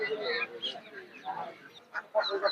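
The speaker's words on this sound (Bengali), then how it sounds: "এখানে এক ছোট ভাই অনেকগুলো হাঁস নিয়ে আসছে" Several ducks at a market quack and chatter close by in overlapping, uneven calls, with a flock's nasal squawks rising near the end.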